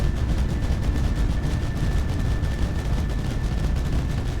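Turrets fire back in the Mindustry game, a dense, continuous rattle of rapid gunfire and booming impacts layered over a steady high tone, loud and unbroken throughout.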